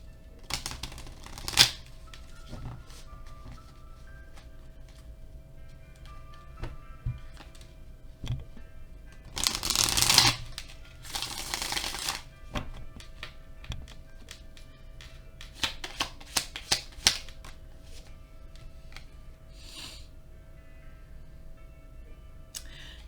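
Tarot cards are shuffled and handled in scattered bursts of soft riffles, taps and flicks, with a couple of louder shuffling flurries near the middle and quiet stretches between them.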